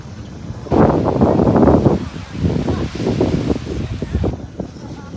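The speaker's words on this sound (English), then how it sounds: "it's much windier down here, which I figured some people would complain about the sound." Strong wind buffets the microphone in loud, steady gusts, with a low rumble that suggests water nearby.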